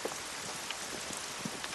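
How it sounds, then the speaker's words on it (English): Rain falling outdoors, a steady close patter on surfaces with scattered individual drops landing throughout, moderately quiet and with no voices. "Outside, the rain has made work difficult"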